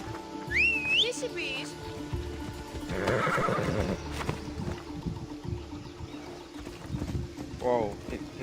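A horse whinnies in Assassin's Creed Odyssey, with a shrill neigh early and another near the end, amid hoof clops, game ambience and a brief burst of speech in the middle.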